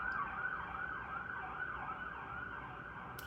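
A wailing emergency siren rises and falls steadily in the distance over a constant rumble of city traffic in Atlanta, with no voices.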